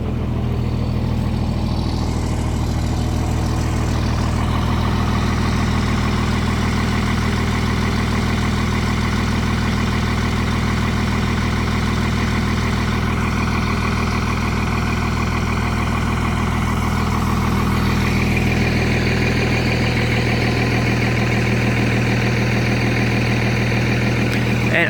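A 2nd gen 24-valve Cummins diesel truck engine idles after a cold start on an 18-degree morning, a loud, steady low rumble with a rattly mechanical clatter that holds throughout, its tone shifting slightly near the end.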